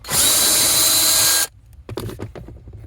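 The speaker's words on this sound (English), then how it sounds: "And then underneath there is a bolt. I believe that is a 7mm bolt. Yes, 7mm bolt. Pretty easy to take off." A power tool whirs loud and steady, backing out a 7mm bolt under a Ford Bronco dashboard, then cuts off after about a second and a half, leaving soft clicks and handling noises.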